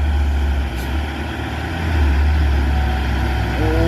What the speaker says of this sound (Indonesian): Ramai truk ya.